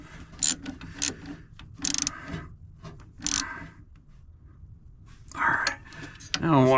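A ratchet and socket tightening a fastener on a 1976 Dodge W200 Power Wagon, with short bursts of close metallic clicking between pauses, and someone talking in between.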